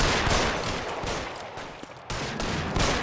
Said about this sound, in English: I think I shot his hat off